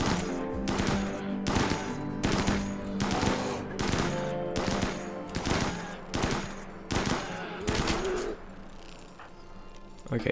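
Rapid gunfire in RimWorld, shooting at a charging polar bear on sea ice. About a dozen sharp, evenly spaced shots ring out in a steady rhythm, loud and close, with a brief tonal game sound near the end.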